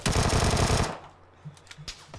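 Gunfire in a battle royale video game: a dense burst of rapid automatic fire, followed by a few scattered, quieter single shots.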